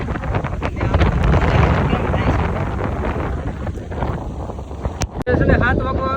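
Strong wind roars and buffets loudly against the microphone throughout on a ro-ro ferry from Surat to Bhavnagar, with a few sharp knocks near the end.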